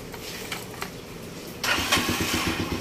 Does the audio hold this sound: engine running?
yes